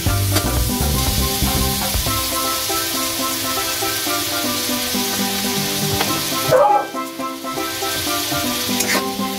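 Boiled pork offal for dinuguan is stirred in a hot pan with a loud, continuous sizzle. Scraping stirs sound up close throughout, with a brief clatter partway through.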